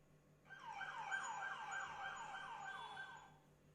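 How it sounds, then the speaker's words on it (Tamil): A siren sound effect from the Canva audio library plays a rapidly repeating wailing sweep, rising and falling about eight times in a row, clear and alone before cutting off. "சைரன் ஆடியோ இதில் இருக்குது."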